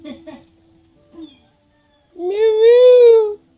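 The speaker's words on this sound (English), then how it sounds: "Oh, that's a fat ass cat." A cat in the video game Everdream Valley lets out one loud, drawn-out meow that rises and falls, after a few short bursts of nearby talking.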